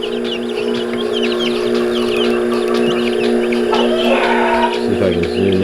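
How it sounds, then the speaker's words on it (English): Guinea fowl calling in a farm shed, a busy mix of chattering bird calls and chirps over a steady electrical hum, fairly close and continuous throughout. "The guineas are very wary little birds."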